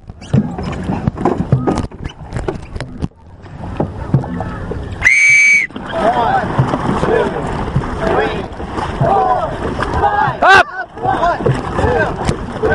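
Dragon boat crew paddling in unison during a practice drill, a rapid rhythmic splashing pulse with a sharp whistle blast midway and shouted voices over the strokes.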